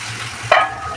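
Sliced onions frying in a pan for a Bengali curry, a steady hiss of sizzling oil with one sharp stirring scrape near the middle.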